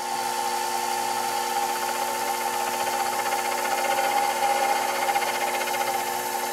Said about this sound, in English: Now we're going to take a very shallow cut at a higher RPM.